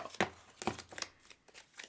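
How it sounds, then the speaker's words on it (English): A deck of playing cards is riffled and tapped in a few quick, soft bursts, close and faint, with no talk over it. "one more shuffle."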